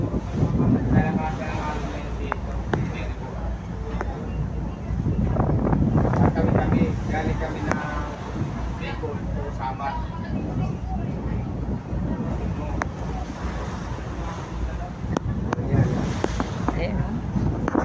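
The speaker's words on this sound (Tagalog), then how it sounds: "Maririnig nyo talaga yung hampas ng alon." Wind and broad ocean wash roar past a boat crossing open sea from Matnog Port toward Allen, Samar. Wave surges swell and fade with gusty microphone wind, and faint voices sit underneath.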